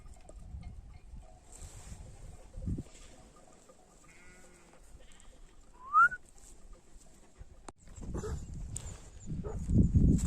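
A single short bleat rises out of quiet outdoor ambience, followed later by rustling, wind-like noise close to the microphone.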